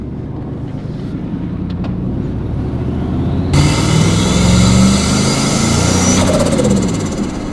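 Turbocharged Chevrolet Silverado truck engine with a test intake revving, a steady loud drone that surges sharply midway with a rising turbo whine and whoosh, no voices.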